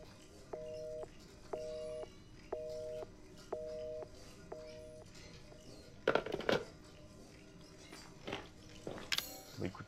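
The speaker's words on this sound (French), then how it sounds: "C'est un checkpoint le téléphone." An in-game telephone used as a save checkpoint in Resident Evil 7 rings five times in even, regular bursts. A few sharp clicks and clatters follow near the end.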